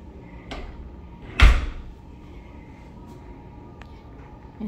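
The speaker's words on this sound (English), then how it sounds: "there is a door for your closet" A hotel room closet door in a deluxe king room at Choctaw Durant Sky Tower gives one sharp knock-like clunk near the middle, with a softer tap before it and a quiet room around it.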